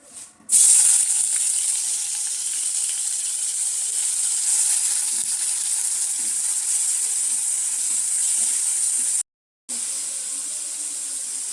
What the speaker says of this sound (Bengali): চিনিটা তেলে গলে গেছে, এবারে দিয়ে দিচ্ছি পেঁয়াজ বাটা।